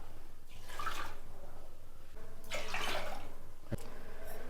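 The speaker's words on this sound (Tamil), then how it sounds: "அதில் ஒரு 150 கிராம் துவரம் பருப்பை வாஷ் பண்ணி இதில் சேர்த்துக்கிறோம்." About 150 grams of toor dal is rinsed with water in a pressure cooker, giving close, sloshing splashes in two main bursts with a short sharp knock between them.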